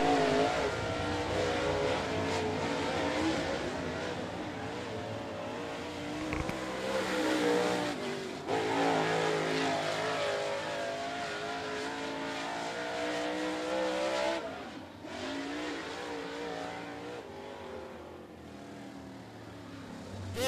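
Super Late Model race cars roaring around Thunderhill Raceway, a loud continuous engine drone with shifting pitch as cars pass close by, swelling and fading over the whole stretch.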